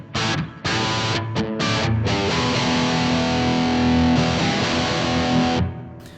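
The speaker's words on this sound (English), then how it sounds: "The warm tube sound here, this is a JCM 800, Marshall JCM 800 into a 1960s 412 Marshall." Crunchy distorted electric guitar through a Donner Arena 2000 multi-effects unit using its Marshall JCM 800 amp model into a 1960s Marshall 4x12 cabinet with reverb, a few short chord stabs, then a sustained ringing chord that decays, loud and alone.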